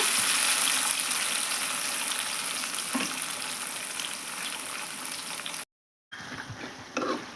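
Chukkakura (sorrel leaves) cooking in a covered pan, a steady bright sizzle and bubbling hiss that runs on evenly, breaks off for a moment of silence, then returns a little softer.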